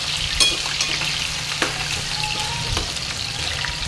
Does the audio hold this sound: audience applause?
no